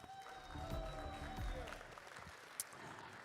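An audience in a Dubai ballroom gives a round of applause, a faint and steady patter of clapping at a distance, with some background tones running through it.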